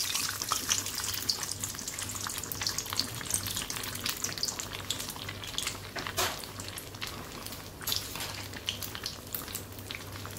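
Chicken snack pieces frying in hot coconut oil, a constant soft crackling sizzle close by with a faint low hum underneath, steady without pauses and no voices.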